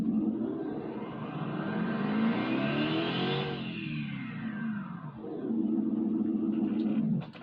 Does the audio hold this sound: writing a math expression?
no